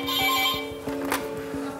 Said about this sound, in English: Farouk, can you answer the phone